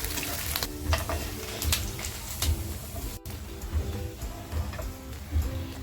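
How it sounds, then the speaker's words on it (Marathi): Squid pieces coated in cornflour fry in hot oil for squid 65, giving a continuous dense crackling sizzle with rhythmic ticking pops and occasional utensil sounds, no talk. "ज्या बाकीच्या राहिल्यात ना त्या आता फ्राय करून घेते"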